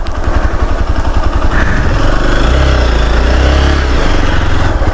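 A motorcycle engine idles steadily and loudly near the gate of a Digambar Jain temple in Mewat, a close, continuous low rumble with no voices.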